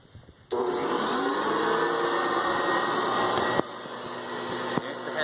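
A Hoover Convertible Elite 4.3 amp upright vacuum cleaner switches on abruptly and runs with a steady, loud motor whine. It holds through most of the clip, drops in level near the end, then surges briefly again.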